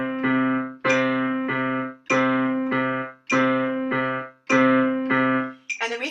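Piano rhythm coordination exercise at a slow 50 beats per minute: sustained low chords struck in a steady repeating pattern, with clear separate attacks and some decay between them, then a quick run of higher notes at the end.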